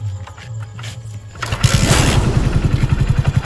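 A motorcycle engine is started: a quiet lead-in, then the motor catches and settles into a loud, close, pulsing idle with a rapid regular throb.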